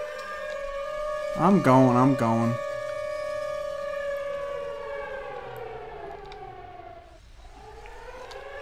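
Video game sirens wail in long, steady rising and falling tones that hold for several seconds, with a brief spoken line over them partway through.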